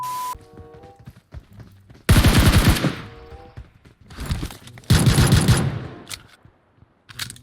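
Video game gunfire comes in two loud, sustained automatic bursts separated by quieter single shots and thumps, close and harsh, with a brief beep at the start.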